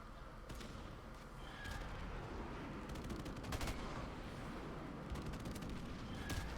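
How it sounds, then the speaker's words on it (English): Airstrike in the Call of Duty Modern Warfare video game: a steady roar of rumbling blasts and crackling gunfire, with several sharp bursts standing out over about seven seconds. "Friendly airstrike on the way."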